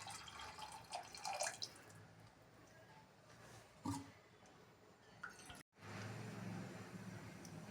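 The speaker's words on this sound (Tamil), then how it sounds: "அடுத்து வாட்டர் ஆட் பண்ணுறேன்." Water is poured into a pot of raw rice and moong dal for khichdi, a steady close splashing and trickling with a few louder drips, then a brief cut and a fuller rushing pour.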